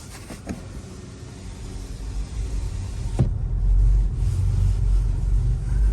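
A VW e-Golf electric car rolls over uneven cobblestones, a low continuous rumble with a sharp knock near the middle, growing slightly louder toward the end with no talk.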